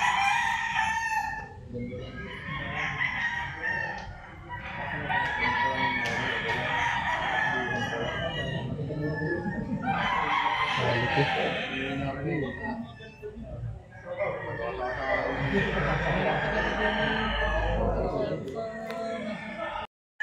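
Several gamefowl roosters crow in long repeated calls at a game farm in Tanauan, Batangas, with hens clucking throughout and someone talking over the steady farmyard din.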